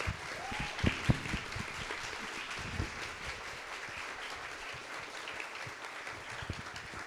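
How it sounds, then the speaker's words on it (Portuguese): Applause from an audience at a debate on the rights of nature in São Paulo, a steady dense patter of many hands clapping at moderate distance that keeps going throughout, with a few sharper louder claps near the start. "Uma salva de palmas também."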